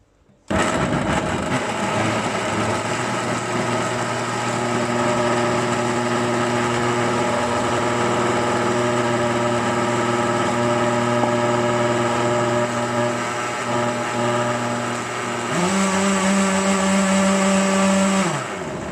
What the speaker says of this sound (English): Okay, now bear with me because I will be blending it.